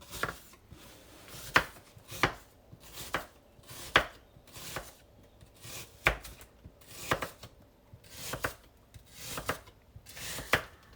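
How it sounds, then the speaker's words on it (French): A knife finely chops onions on a board in steady, close, crisp strokes, roughly a dozen sharp thuds with short pauses between them and no talking. "Maintenant, nous allons émincer les oignons comme d'habitude."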